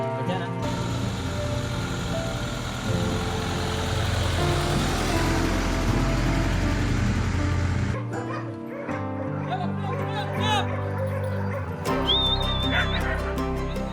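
Dogs bark, yip and whimper at a busy dog daycare in Amman with about 25 dogs, a dense mix of overlapping barks near and far, with passing car noise and some talk around it.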